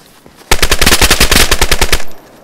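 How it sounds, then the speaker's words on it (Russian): A rapid burst of automatic gunfire in the survival video game DayZ, loud and close, firing about fifteen evenly spaced shots in a steady rhythm before cutting off. "Это он по мне стрелял?"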